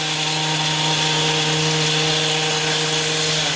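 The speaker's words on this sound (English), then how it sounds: "The landscapers are trimming trees" Landscapers' power tools trim trees next door, a steady whining drone held at an even level throughout, with no talking.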